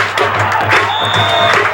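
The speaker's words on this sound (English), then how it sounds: "the rhythmic Doctor Who clapping" Crowd in the stands at a 1995 high school football game claps in unison to a rhythmic beat, brief repeated claps over a busy background of murmuring spectators.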